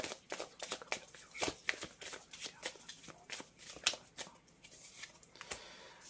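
Tarot cards riffled and shuffled by hand, a string of crisp papery flicks and slaps in irregular quick bursts, close and fairly quiet.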